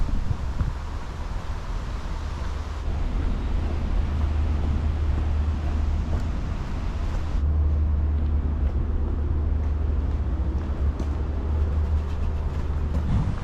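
Steady low rumble of car traffic on an Edinburgh street beside the Water of Leith walkway, a continuous near wash of passing vehicles with wind noise on the microphone and no talking.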